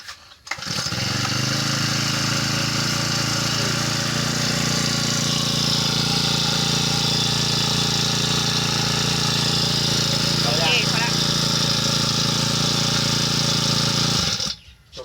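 GX-35 grass trimmer engine starting abruptly and then running at a steady, loud, buzzy idle for about fourteen seconds before cutting off sharply, close to the recorder.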